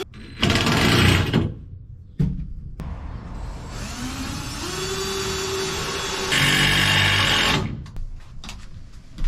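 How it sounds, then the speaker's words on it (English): Drill pre-drilling screw holes in wood wall pieces inside a box truck camper: several bursts of high whirring at close range, separated by short pauses and clunks, one long steady run in the middle. "As always, I'm gonna pre-drill these before I put the screw in."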